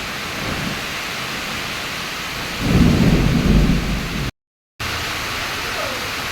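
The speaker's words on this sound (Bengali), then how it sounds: "বাজ পড়ছে প্রচুর।" A thunderstorm with torrential rain on a dark afternoon: steady hissing downpour throughout, with a deep rumble of thunder swelling in the middle, broken by a brief gap of silence.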